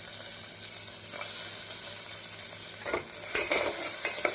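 Ginger garlic paste frying in a pan for a vegetable white kurma, stirred with a spoon: a constant close sizzle with scraping strokes growing busier and louder toward the end.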